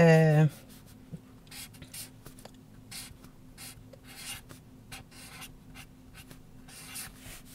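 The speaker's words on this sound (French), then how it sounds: "je peux écrire ici, pareil comme quand on écrit un petit texte" Handwriting in a visual journal: quick scratchy pen strokes in short bursts, close and fairly soft, after a brief tonal sound at the start.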